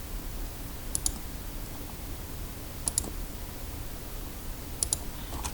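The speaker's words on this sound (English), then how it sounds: "I just hold a shift and click the outsides of the letters." Computer mouse clicks while letters of a printable turkey design are selected for cutting: three quick double clicks, evenly spaced about two seconds apart, crisp and close over a faint hiss.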